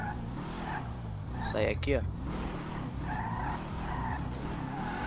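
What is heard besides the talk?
BMW car accelerating and skidding in GTA V video game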